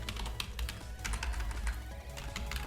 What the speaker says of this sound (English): here you can type message